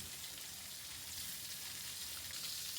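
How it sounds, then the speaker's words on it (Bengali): Fish sizzling in hot oil in a home kitchen as it is turned and fried on both sides, a soft, steady crackling hiss with no voices throughout. "মাছটাকে উল্টিয়ে দিচ্ছি, এপিঠ ওপিঠ খুব ভালোভাবে ভেজে নিচ্ছি।"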